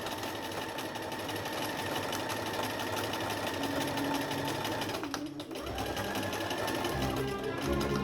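Sewing machine stitching a fabric face mask, a fast steady mechanical whirring hum up close, pausing briefly then restarting with a lower, slightly changed drone, under faint talk.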